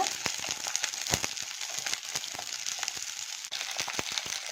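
Garlic cloves and whole small onions fry in a pan with a steady, close sizzle full of sharp crackles and pops, and no talk over it.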